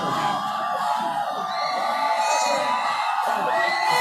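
A gallery crowd at an all-India volleyball tournament final in Kollam whoops and cheers, a loud, sustained mass of shouting voices with rising yells throughout.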